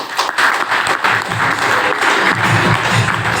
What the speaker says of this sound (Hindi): बजाइए ताली